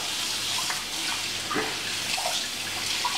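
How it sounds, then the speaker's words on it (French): Tap water runs steadily over salt-cured Norwegian salmon being rinsed, a constant close hiss and splash with small spatters from the fish. "alors là on va la passer sous l'eau. Pour enlever le surplus du sel"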